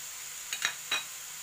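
Onions frying in a pan, a steady soft sizzle throughout with a few light scraping stirs of a utensil against the pan, close and quiet, no voices.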